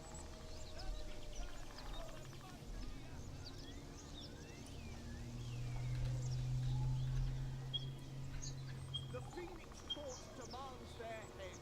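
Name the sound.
bird sounds in a video game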